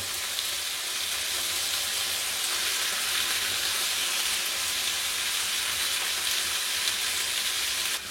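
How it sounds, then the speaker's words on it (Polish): Marinated pork neck sears in a hot pan with olive oil, making a steady, close, hissing sizzle that stays constant and fairly loud with no pauses or talking. "obsmażamy zamarynowane mięso"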